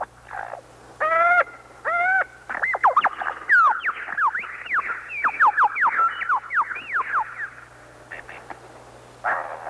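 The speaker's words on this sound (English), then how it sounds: "The lyrebird, master of vocal mimicry." A lyrebird sings a long, varied run of rapid whistles, trills and sweeping calls, loud and close, with short pauses between phrases.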